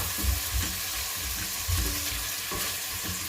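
Onions sauté in a pan for a mango chutney chicken curry, producing a dense, steady hiss of frying with soft low thumps from occasional mixing, close up and without speech.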